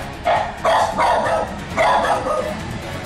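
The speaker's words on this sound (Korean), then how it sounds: "들어오자마자 막 짖는 소리가 들리는데" A dog barks repeatedly at close range, four quick muffled barks in an uneven rhythm over a faint background hum.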